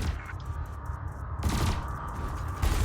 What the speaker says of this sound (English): your laser will fire until the capacitor is depleted, at which point it will need to recharge.